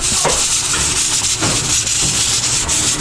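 A loud, continuous hiss of steam escaping from a pressure cooker's valve, rough and steady with slight surges, nothing else audible.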